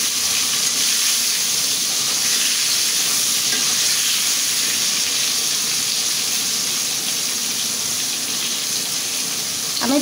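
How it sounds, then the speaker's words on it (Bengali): Eggplant pieces, seasoned with salt and turmeric, fry in hot oil in a pan, a loud, steady, continuous sizzle close up with no talking. "আমি বেগুনটাও লাল লাল করে ভাজি করে নেব"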